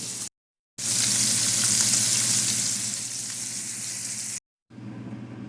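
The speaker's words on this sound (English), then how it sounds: "The fan's going and it's sizzling." Steady, loud sizzling of meat frying in a pan with a low fan hum underneath, broken by two brief silent gaps.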